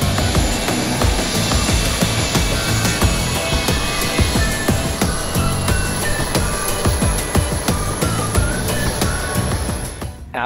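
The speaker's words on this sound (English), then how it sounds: "I got to Signature just in time to see my inbound flight arrive from Taos." Taos Air Dornier 328 jet arriving at Dallas Love Field, a loud steady roar of jet engine noise filling the scene, rumbling continuously and easing off slightly at the end.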